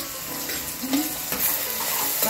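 Ginger garlic paste goes into a hot pan with oil and green chillies, sizzling steadily with a few close stirring scrapes over about two seconds, no voices.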